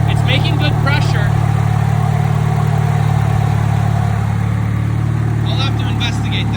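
A 700hp drift car that sat for three years runs with a steady, deep engine drone, loud and close, while people talk over it.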